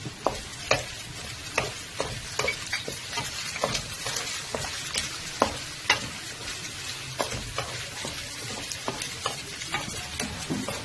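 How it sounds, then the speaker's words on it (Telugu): Spices and curry leaves crackle and sizzle in hot oil, with frequent sharp pops over a steady frying hiss, close and fairly loud. "ఇప్పుడు ఈ పోపు దినుసులన్నీ వేగుతున్నాయండి"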